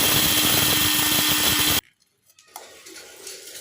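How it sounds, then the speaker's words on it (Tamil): A kitchen mixer grinds fenugreek and mustard seeds for lemon pickle, a loud, dense whirring roar for under two seconds that cuts off abruptly, followed by faint clatter and quiet. "முதல்ல இந்த வெந்தயம் கொஞ்சம் திரிச்சிக்கிட்டும், அதுக்கப்புறம் கடுகு போட்டு அது கூட திரிப்போம்"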